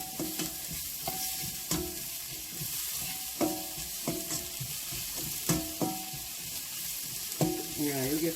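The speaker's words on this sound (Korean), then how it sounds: "기름에서 양파 향이 싹 우러나고 있어요." Onion frying in oil in a pan, a steady soft sizzle punctuated by regular scraping strokes as it is stirred, close and fairly quiet with no talking.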